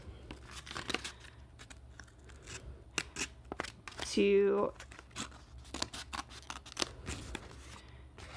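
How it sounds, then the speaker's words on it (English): Scissors snip through paper in a series of short, crisp cuts, close up, with a brief rustle of paper midway. "and then use my scissors"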